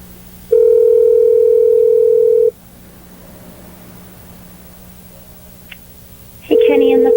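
A telephone dial tone sounds while a call is placed back: a steady, loud electronic tone holds for about two seconds, then quiet line noise follows before the tone starts again.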